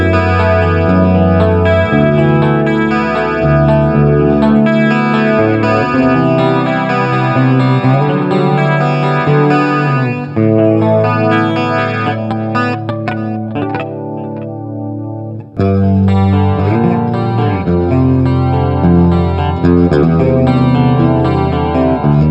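Electric guitar on a clean preset through an M-Vave Cube Baby effects processor, playing sustained chords and picked notes thickened by chorus, loud and continuous with a short drop in the middle and no talking.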